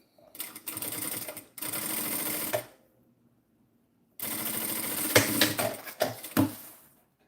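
A sewing machine topstitches a bag in two bursts of quick, rattling stitching, separated by a short pause and heard up close.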